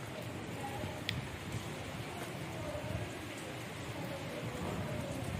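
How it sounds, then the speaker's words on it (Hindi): Heavy rain pours steadily on a home during an unseasonal evening downpour, a dense continuous hiss close by with a few sharper drop hits and no talk over it. "बारिश आ रही है तेज तेज"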